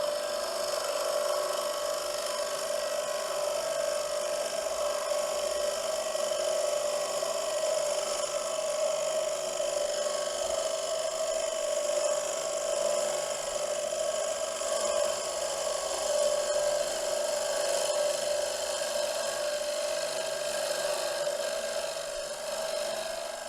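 Wooden blanks being shaped for wands and pens on a lathe, a steady continuous whirring rasp with a strong hum, close and unbroken for the whole stretch with no talk.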